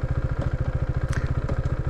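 A 2020 Husqvarna Vitpilen 401 single-cylinder motorcycle idles close by with a steady, even low thump and a light mechanical clatter, with no other sound over it.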